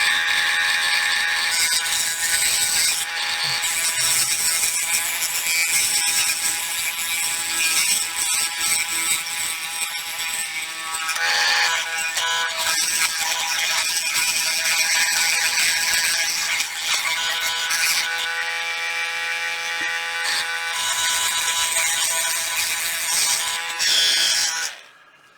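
A Dremel rotary tool fitted with a small cutting bit carves plastic on a 1/200 Trumpeter USS Arizona model, a steady high-pitched whine running close and loud without pause for about 25 seconds before cutting off.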